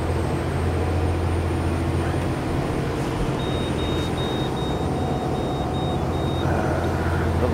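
Steady, droning twin motorboat engines rumble loudly and continuously throughout, with a faint intermittent beeping partway through; the port engine runs lower on oil pressure than the starboard.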